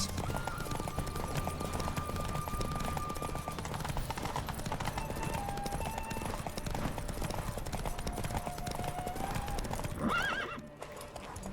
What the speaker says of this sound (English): Take your mount to her limits.